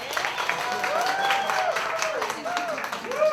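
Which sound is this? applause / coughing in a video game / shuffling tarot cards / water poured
applause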